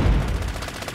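Suppressing gunfire in a multiplayer shooter video game, a short rapid burst of shots over about one second, moderately loud and heard alone.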